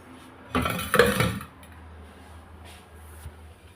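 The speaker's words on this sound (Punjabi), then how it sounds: "ਜਿਹੜੇ ਧੋ ਕੇ ਰੱਖੇ ਹੋਏ ਨੇ ਇਹ ਆਪਾਂ ਉੱਪਰ ਰੱਖ ਦਾਂਗੇ" Washed steel dishes and utensils are picked up and stacked, giving a loud burst of clattering metal lasting about a second, followed by a few lighter clinks in an otherwise quiet room.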